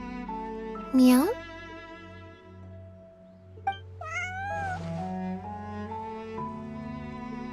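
A cat meows in the video game Genshin Impact, a few short rising calls standing out clearly over a steady background music bed, with game sounds in between.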